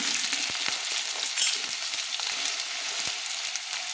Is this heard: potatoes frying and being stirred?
yes